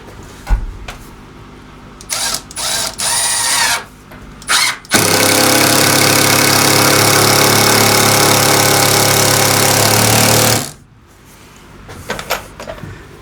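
A power drill drives two screws into a bench board, with a few brief trigger bursts followed by one long, loud, steady whir of about six seconds, then quiet handling noises.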